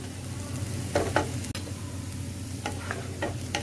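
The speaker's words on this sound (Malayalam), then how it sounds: "ഞാൻ ഈ ഉള്ളിയും വെളുത്തുള്ളിയും ഇതൊക്കെ ഇങ്ങനെ ഫുള്ള് വഴറ്റി" Onion and garlic sautéing in a pan for fish chukka, with a low continuous sizzle punctuated by a few scraping stirs and one sharp tap of a utensil; no voices.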